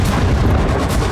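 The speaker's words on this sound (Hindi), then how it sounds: "कजान की शीशे वाली चमचमाती इमारत से यूक्रेन का ड्रोन टकराया और जोरदार धमाका" A heavy explosion as a Ukrainian drone strikes a glass-fronted building in Kazan. A dense, loud, rumbling blast fills the whole brief moment, with no voices.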